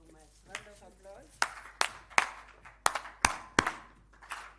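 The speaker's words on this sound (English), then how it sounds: "Thank you so much. Round of applause." Scattered handclaps from a conference audience at an international city and county managers' exchange ring out as sharp individual claps spread unevenly over a few seconds, following a brief stretch of voices at the start.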